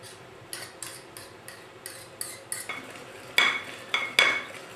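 Repeated spoon strokes scraping and clinking against a bowl as beaten eggs are stirred into a creamed butter and sugar mixture for Greek koulourakia cookies, a steady rhythm of about eight close, distinct scrapes growing louder near the end.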